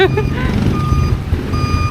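Truck reversing beeps in a village street in Cebu, Philippines: evenly spaced electronic tones repeating at a steady pace under a low engine rumble, with people talking nearby.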